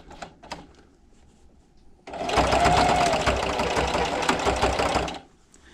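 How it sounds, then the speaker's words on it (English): A sewing machine set to stitch length 2.5 runs a quarter-inch seam on a fabric hair scrunchie, a rapid steady mechanical whir lasting about three seconds after a few light clicks, close and loud with no talk. "And then just keep sewing. I'm coming up to my end, and don't forget to backstitch."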